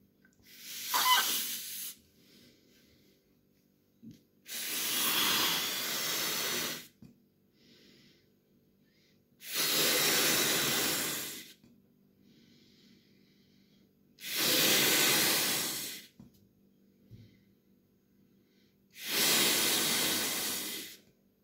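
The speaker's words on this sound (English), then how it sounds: "I will inflate it and show you" A white heart-patterned balloon is inflated in five long, loud bursts of hissing air, each lasting about two to three seconds, separated by quiet pauses.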